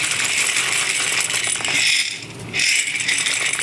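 Small pennies, a pantry pasta shape, are measured out and poured, a bright continuous rattling cascade, close and loud, with a brief lull midway before pouring resumes.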